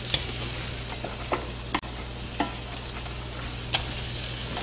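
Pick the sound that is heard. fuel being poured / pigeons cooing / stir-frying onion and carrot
stir-frying onion and carrot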